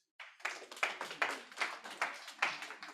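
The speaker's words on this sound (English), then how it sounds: "So give him a round of applause, please." A small audience at a tech talk on natural language processing gives a short round of applause, a few sparse claps followed by rhythmic clapping that comes in bursts and stays fairly close.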